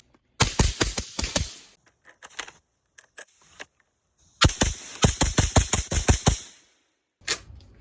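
Rapid bursts of loud, sharp gunshots from a Desert Tech MDRX .308 rifle fitted with a Dead Air three-chamber 30 cal muzzle brake, fired in two quick strings with a few scattered shots between, close and harsh.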